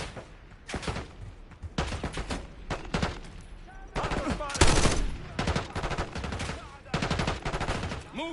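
Call of Duty: Black Ops 6 gunfire rattles in repeated automatic bursts, loud and close, separated by brief pauses, with one especially heavy burst near the middle of the stretch.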